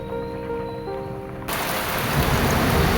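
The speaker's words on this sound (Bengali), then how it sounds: "এদিকে বৃষ্টি শুরু হয়ে গেছে" Rain starts falling and quickly builds into a loud, steady hiss of drops on surfaces, breaking in abruptly after a quieter moment with a faint steady hum, then growing heavier and close.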